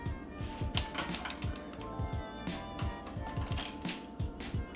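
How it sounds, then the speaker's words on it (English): A 4mm Allen key unthreads small bolts on a Surron electric bike's ignition cover, giving steady close clicking and creaking mechanical ticks, ratchet-like, in a busy even rhythm with no talk. "So you're gonna take your 4mm Allen and unthread these bolts right here."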